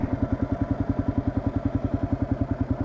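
A second-generation Kawasaki KLR650 motorcycle idles close by, its engine thumping in an even, rapid pulse that holds steady throughout, with no other sound over it.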